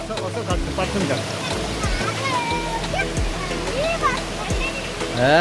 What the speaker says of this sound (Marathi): हा वॉटरफॉल आमच्या गावचा एक नंबर वॉटरफॉल आहे